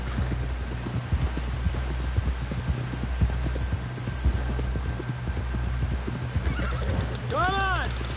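A horse in Red Dead Redemption 2 galloping with steady rapid clip-clop hoofbeats under game dialogue, ending with a loud neigh.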